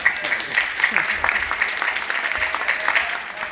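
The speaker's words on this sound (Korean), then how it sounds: "박수 한번 치겠습니다." A church congregation at a Korean Presbyterian worship service claps steadily for a few seconds, a dense patter of applause.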